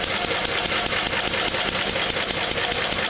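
A Lister D stationary diesel engine runs loudly and close by, with a rapid, even chugging rhythm and a clattering mechanical tone that stays steady throughout.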